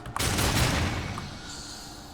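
A crystal being shot in Darksiders II, a short burst of dense crackling gunfire-like blasts that quickly fades into a lingering ringing tail.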